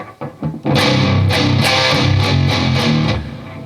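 Loud, heavily distorted electric guitar playing a riff kicks in after a few short muted plucks, chugging rhythmically with palm-muted open strings and sustained crunchy chords.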